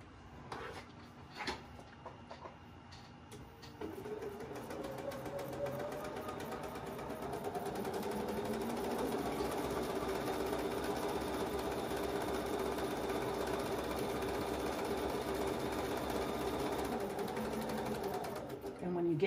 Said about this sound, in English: and that's where you start sewing.